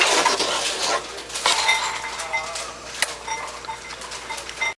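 A spoon stirs spaghetti sauce in a cooking pot, giving light clinks and taps against the metal that repeat irregularly over a soft background hiss.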